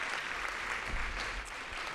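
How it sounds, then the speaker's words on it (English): Audience applause for two keynote speakers at an alumni banquet and dinner, a dense, steady wash of clapping filling the room for a couple of seconds with no voices over it. "Please join me in a round of applause for Kiran Jain and Jennifer Pahlka"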